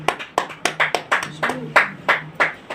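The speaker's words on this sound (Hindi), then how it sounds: "ये सारे लोग तालियों में हैं" Hand claps at a literary gathering, about a dozen sharp, fairly regular slaps in quick succession, close and clear, with a faint low tone humming underneath.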